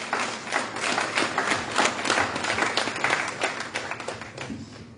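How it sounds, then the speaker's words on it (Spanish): A church congregation claps in a dense, lively burst of applause with crisp individual claps close by, slowly thinning toward the end. "Denle un aplauso a su Dios en esta mañana."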